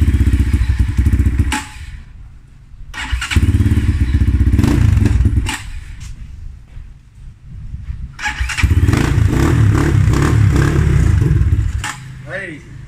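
A cold Chinese 250cc motocross motorcycle engine is started. It catches and runs roughly in loud bursts, with pauses, thumps and revving, while people talk nearby.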